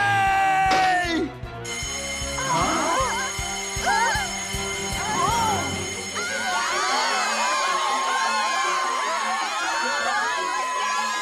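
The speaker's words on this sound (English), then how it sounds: "Nagasawa pushed the emergency button" An emergency alarm bell in an animated cartoon, set off during a fire at a school science lab, rings continuously under children shouting and a noisy, excited crowd.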